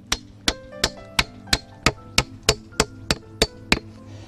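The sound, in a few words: hammering boards of raised garden bed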